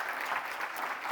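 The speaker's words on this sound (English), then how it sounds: "You can even give her a warm welcome with a warm round of applause." Steady audience applause at a conference session on food and feed safety, a dense even patter of many hands clapping, moderately loud and continuous throughout with no talk.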